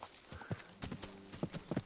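Horse hooves clop in a medieval video game, Kingdom Come Deliverance 2, a quick uneven rhythm of hoofbeats at moderate level over a faint ambient bed.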